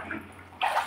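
A child splashes water while bathing, making a soft wash of water that swells into a brighter, livelier splash near the end, close by with no talk.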